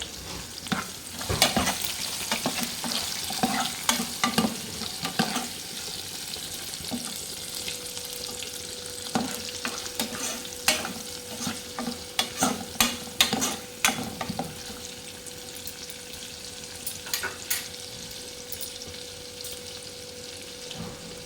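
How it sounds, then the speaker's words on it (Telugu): Chopped onions sizzle and fry in a pan for a mosplit-moong-dal curry, with repeated scraping strokes of a ladle stirring them in an irregular rhythm, close and clear, no talking. "ఆనియన్స్ ముక్కలు వేసుకుందాం. వేసుకుని కలుపుదాం గరిటెతోటి."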